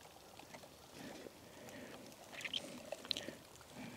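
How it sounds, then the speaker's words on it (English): Water pours and trickles into a Sagan water purifier filter from a bottle dipped in a shallow stream outdoors, a faint, steady gurgle with a few small bright splashes, close and unaccompanied by talk. "I can hear the water going into the filter."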